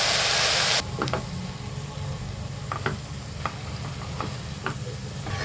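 Chopped arakeerai and mulaikeerai greens sauté in a pan, with a loud steady sizzle at first that quickly drops to a softer hiss broken by scattered clicks and scrapes of stirring.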